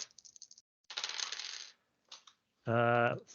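Dice thrown onto a table during a Dungeons & Dragons session of Curse of Strahd, giving bursts of light rattling and clicking, then a loud ringing clatter at the end, close up with no voices.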